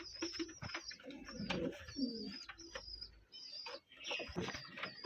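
Pigeons coo in soft, repeated rounds at a pigeon farm in Rajshahi, with overlapping calls rising and falling close by and a few faint rustles between them.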